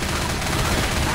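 Gunfire in the zombie shooter Left 4 Dead, a dense continuous burst of rapid shots, loud and close, filling the whole moment.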